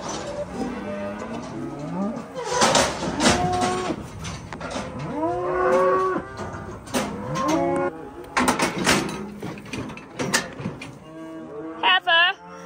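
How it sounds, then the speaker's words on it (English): Weaned calves packed in a cattle chute moo repeatedly, overlapping loud bawls and calls close by, with brief clatter between them and no clear talk. "Just a chute full of calves"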